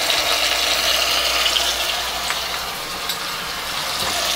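Garlic and ginger paste fries with onions in hot oil for a mutton rezala, a loud, steady broadband sizzle up close, continuous and even with faint crackles and no voice.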